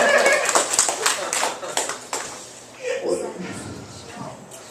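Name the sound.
audience clapping hands at comedy night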